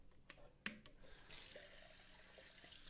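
Tap water runs over a blender as it is rinsed in a kitchen sink, a few close knocks and clinks before a steady hiss of running, splashing water.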